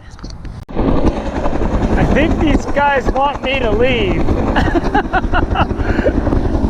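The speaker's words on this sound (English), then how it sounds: "This helicopter is like zooming right in on me." Low-flying helicopter over the Truckee River, a loud, steady rotor and engine roar that fills the clip from the first second, with someone speaking over it.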